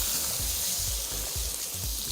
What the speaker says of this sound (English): I'm gonna pour that in. Again, you're gonna hear that sizzle.